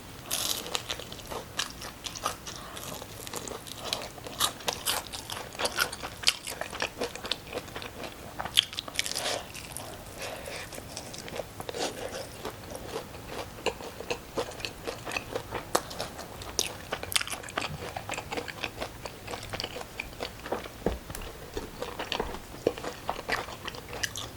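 Crunchy Kyochon honey combo fried chicken is bitten and chewed up close, with dense, continuous crackling crunches and wet chewing throughout and no talking.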